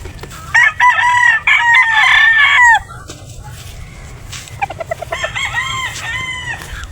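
A rooster crows loudly nearby, followed by hens clucking, then another crow rises over the farmyard chatter.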